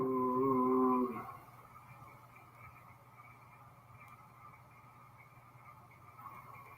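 A dog lets out a loud, wavering howl for about a second, then the sound drops away to a quiet, steady background hum with only faint traces of whimpering.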